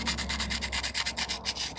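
240-grit sandpaper rubs on aluminum from a 1995 Corvette C4 in quick, even back-and-forth strokes, about a dozen rasping passes, close and fairly quiet, with no talking.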